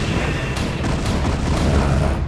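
Protoss carrier interceptors attacking in StarCraft: Remastered, a dense, continuous barrage of booming, crackling weapon fire with repeated sharp bursts, loud and unbroken, with no talking.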